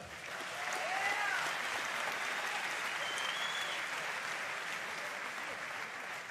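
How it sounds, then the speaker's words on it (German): An audience at an MMA event in Hannover applauds a fighter, a dense, continuous roar of clapping that swells early and holds steady at a moderate distance throughout. "Ihr Applaus für Max Holzer."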